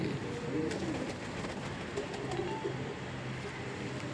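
Soft pigeon cooing, somewhat distant, over a steady background hum.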